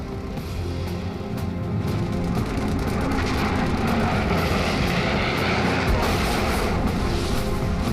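Corsair WWII fighter plane with 2,000-horsepower engines, a loud, dense, sustained roar filling the whole stretch without pause and with no talking over it.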